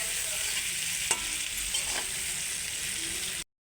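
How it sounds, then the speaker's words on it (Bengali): Chicken for a chicken and potato korma sizzles steadily in a hot pan while being stirred, with a couple of brief scraping knocks from the spoon; no talking. "আমি অর্ধেক চিকেন নিয়েছি, নিয়ে রান্না করে নিচ্ছি"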